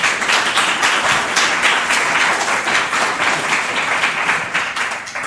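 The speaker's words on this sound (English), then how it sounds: "So a round of applause for..." An audience at a data-standards conference session applauds a presenter with a dense, sustained round of clapping that stays steady and loud for several seconds.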